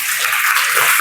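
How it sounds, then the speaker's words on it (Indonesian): A classroom of students claps for a classmate, a brief burst of bright, dense hand clapping at close range with no talking over it. "Kita tepuk tangan dulu untuk Ella."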